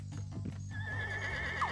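A horse in Scribblenauts Unlimited lets out a short, clear whinny preceded by a few quick clip-clop hoofbeats, close and loud with nothing else over it.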